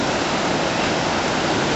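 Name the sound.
ocean waves at the beach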